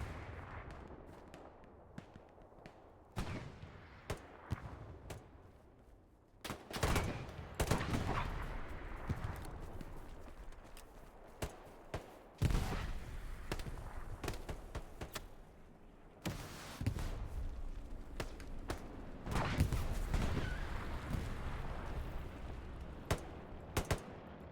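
Repeated gunfire in Hell Let Loose on the Mortain map during a competitive match, with sharp shots and bursts scattered irregularly across the stretch, some close and loud, others more distant, over a steady battlefield rumble.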